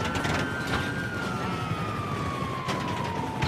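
A police car siren in GTA 5 wails steadily with a slowly falling pitch over a constant engine-like rumble, loud and close throughout.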